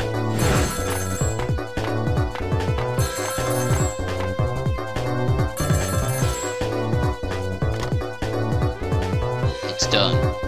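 A telephone rings in the video game Ghost Trick, its repeated electronic ring pulsing in a steady rhythm beneath loud game music, with a brief burst near the end.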